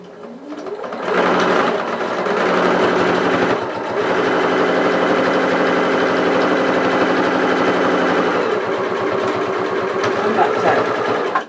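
A sewing machine stitches a fabric toy ear, running in a continuous rapid rattle for several seconds after a short quiet start, with one brief pause, loud and close.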